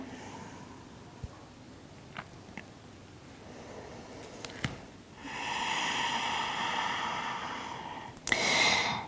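Slow, deep breathing during a yoga flow: a long, airy exhale swells and fades, then a sharp breath follows at the end, close and fairly soft over quiet room noise.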